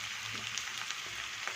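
Pork with salt and a little turmeric fries in a pan, giving a steady, moderate sizzle with faint crackles and no talking.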